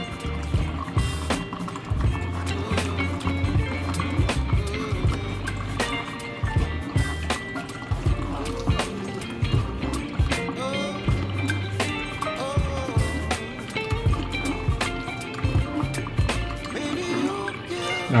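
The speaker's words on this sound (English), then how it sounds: "Ease it up like so the juice can flow through freely." Fresh fruit juice flowing through a strainer while a spoon eases the pulp along, giving a steady, busy wet swishing and dripping with scraping clicks that carry on throughout.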